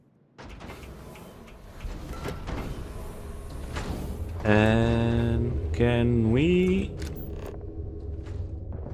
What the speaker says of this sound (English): let's open the door then